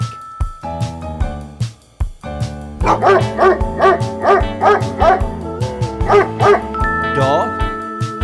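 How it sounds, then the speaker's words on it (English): A dog barks in a quick run of about eight sharp, evenly spaced woofs, loud and close, layered over cheerful background music with a whining yip near the end. "Dog."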